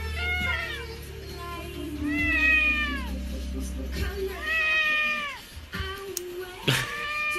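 A 16-year-old cat meows and whines in a series of four or five drawn-out, rising-falling cries, loud and close, with brief pauses between them and a couple of sharp clicks near the end.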